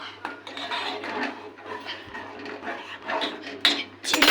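Tea being stirred in a metal pot on a stove, with repeated scraping and clinking of a utensil against the pot under a low background hum, close and uneven in loudness, with no voices.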